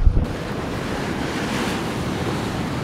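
Steady roar of surf and gusting wind buffeting the microphone on a beach, a continuous wash of crashing waves with no voices.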